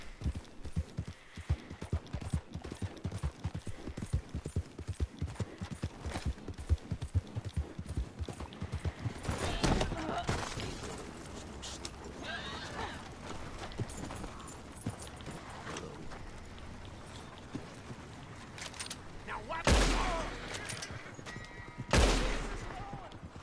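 Horse hooves clip-clop steadily and close in Red Dead Redemption 2, a quick rhythmic trot that carries on for a long stretch, with loud gunshot bursts breaking in near the end.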